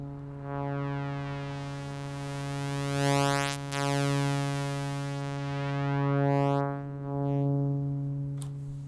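Sawtooth oscillator run through an Erica Synths Polyvox VCF in low-pass mode, the filter moved by hand: a sustained buzzy drone whose brightness swells and dulls in slow sweeps, heard alone for nearly nine seconds.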